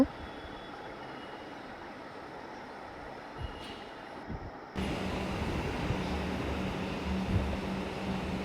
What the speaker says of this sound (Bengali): আমি এখন মেট্রো স্টেশনে বসে আছি মেট্রো আসলে তারপর যাব